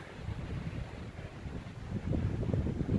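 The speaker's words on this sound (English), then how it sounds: "The wind is giving me a little concern" Wind gusts across a snowy mountain hiking trail in the San Jacinto Wilderness, a steady low rumble buffeting the microphone and rising slightly toward the end.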